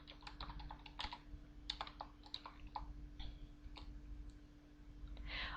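Fast, irregular typing clatters on a computer keyboard in bursts of light plastic key clicks, close and fairly quiet over a steady low electrical hum, with no voices.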